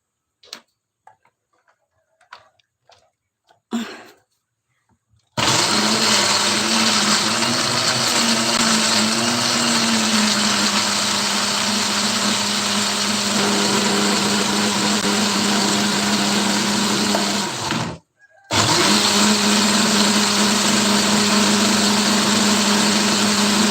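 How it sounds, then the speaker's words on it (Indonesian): Kitchen blender grinding spice paste for ayam rica rica, a loud steady motor whir that starts abruptly after a few faint clicks, cuts out briefly near the end, then resumes at full strength. "mau memblender dulu bumbu ini di sebelah"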